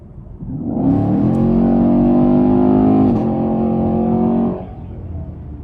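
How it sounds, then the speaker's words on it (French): A Chevrolet Camaro sports car styled after Transformers 5 accelerates hard at highway speed, its engine a loud, close, rising roar with a brief gear-change dip midway before it cuts off and fades to road rumble. "Faut pas accélérer comme ça quand t'es à 130."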